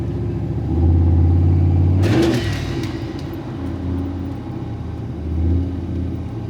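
Old Ford OBS truck with a slipping transmission, its engine rumbling steadily and rising into a loud rev near the start before settling back to a mid-pitched drone, heard close with no talk.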